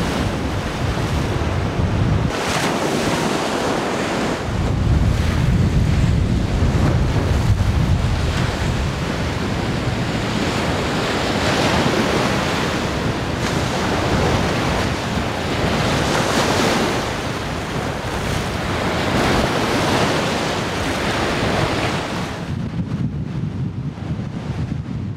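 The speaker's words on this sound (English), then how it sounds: "It was a windy ride, but nothing like this." Strong winter wind buffets a microphone on the Shikoku coast near Hojo, Japan, during a cycle tour, a loud continuous roar with gusting surges and surf-like rushes and no talking.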